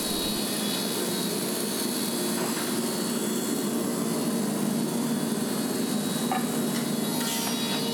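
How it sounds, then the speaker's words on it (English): A thickness planer in a cabinet shop's lumber processing area feeds a wooden board through, giving a loud, steady, unbroken mechanical roar that holds for the whole stretch with no talking. "run it through the thickness planer"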